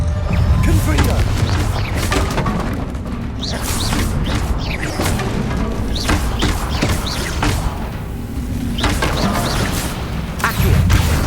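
Repeated Confringo blasting spells in Hogwarts Legacy, a run of booming impacts and crashing bursts over dense combat noise and music, with a voice talking now and then.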